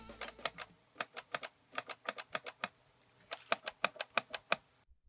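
Scooter starter on temporary wiring clicks repeatedly without spinning, giving sharp, close, evenly spaced clicks in two bursts separated by a short pause, with no motor whir.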